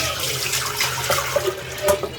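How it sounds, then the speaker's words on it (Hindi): Water is poured into a pressure cooker in a home kitchen, producing a continuous splashing and gurgling stream with small bubbling pops, close up, with no voices. "अच्छा भाई, कुकर में पानी डाल रही हूँ।"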